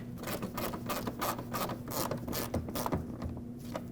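Small fragile screws driven to hold a front bumper bracket behind the wheel arch on a 2009-2010 Dodge Ram 1500, giving a rapid run of close, steady ratcheting clicks with no talk.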